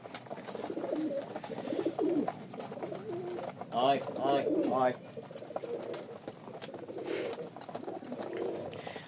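Domestic high-flying pigeons in an iron cage coo in a short burst of throaty, wavering calls near the middle, amid low background voices and light rustling.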